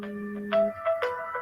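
A phone rings close by with a bright electronic melody, a few quick tonal notes played in a short pattern.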